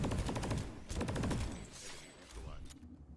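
Carbine gunfire in a video game rattles off in quick bursts of rapid shots, loud at first, then thinning into scattered echoing reports.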